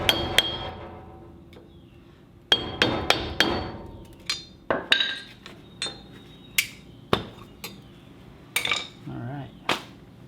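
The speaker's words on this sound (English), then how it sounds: "I'm just going to use this old beater screwdriver that's been around the farm for a while and pop this loose" An old, worn screwdriver is struck with a hammer like a chisel to pop a part loose during a Toyota front wheel bearing job: a dozen or so sharp metallic strikes in irregular clusters, close and loud, with no talking.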